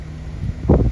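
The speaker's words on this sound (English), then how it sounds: "I'm kind of facing the wind right now" Wind buffeting a microphone outdoors at Rockport Harbor: low rumbling gusts that swell into a louder thump near the end, close and muffled, with no talk.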